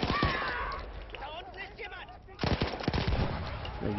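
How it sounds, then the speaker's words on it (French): Turret and machine-gun fire in the Battlefield 1 campaign: rapid bursts of shots and shell impacts, loud at the start, quieter in the middle, then a dense burst again, with a voice talking over it. "ils me tirent vraiment dessus avec les obus"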